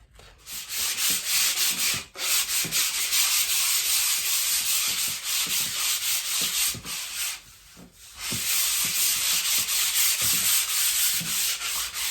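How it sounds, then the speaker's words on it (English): Bedroom walls being rubbed down with sandpaper, a loud continuous rasping scrape in rhythmic strokes, broken by two brief pauses, with no talking. "we can get on with both sanding the walls"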